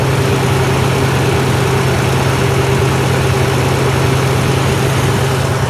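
A Jeep CJ5 engine runs at a steady idle with a recent fuel leak under control, giving a loud, close, continuous low drone that holds unchanged throughout with no talking.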